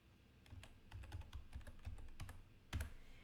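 Fingers type on a computer keyboard while entering a report name in QuickBooks Online, a quiet, close run of irregular clicking keystrokes with a slightly heavier tap near the end.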